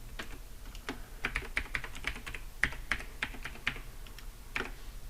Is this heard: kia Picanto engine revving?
no